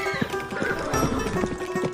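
Hooves of Sultan, a horse carrying the rider Baba Bharti on an evening outing, clip-clop in a steady, continuous rhythm at close range, with faint whinny-like tones running along beneath the footfalls.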